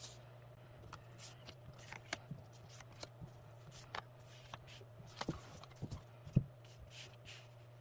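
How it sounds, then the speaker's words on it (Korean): Tarot cards are shuffled and drawn by hand, producing soft, irregular riffling and flicking sounds with a sharper snap or tap now and then, faint and close over a low steady hum, with no talking. "우선 선택 카드를 먼저 뽑아 보겠습니다."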